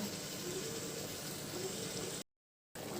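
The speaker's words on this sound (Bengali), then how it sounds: "ফুটে গেছে, এরপর আমি ঢাকা চাপা দিয়ে রেখে দেবো।" Chicken curry bubbling in a pot on the stove after warm water has been added, a steady dense boiling hiss that runs continuously before cutting to a brief silence and resuming.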